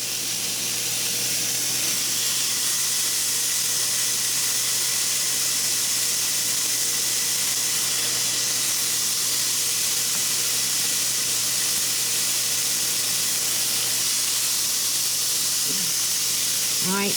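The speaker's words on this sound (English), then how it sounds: "So I've got to add these hamburgers. Listen to them sizzle." Hamburgers sizzle on a Ninja grill, a loud, unbroken hiss and crackle running steadily for the full length with no talk over it.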